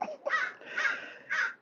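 Crows caw loudly and close by in early morning garden surroundings, three harsh calls in a row, each drawn out and ringing.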